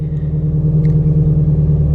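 A Shelby GT350's engine idles as it warms up, a steady low rumble close by and unchanging for the whole stretch, with no talk over it.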